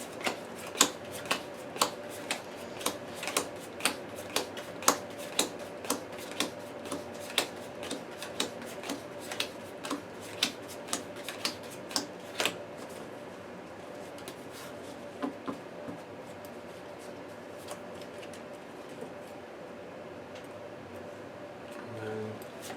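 Playing cards being shuffled for an Arkham Horror card game, a series of soft riffling bursts and taps at a steady rhythm, fairly quiet, thinning out toward the end.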